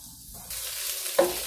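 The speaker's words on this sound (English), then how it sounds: "I gotta go stir my vegetables. I don't want them to burn." Vegetables stirred in a hot pan for chicken liver pâté, a soft scrape of the utensil followed by a rising sizzle and a brief clink, close and quiet with no talk.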